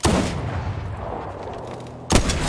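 Two booming sniper rifle shots in a video game, one at the start and another near the end, each a loud sharp crack trailing into a rumbling echo.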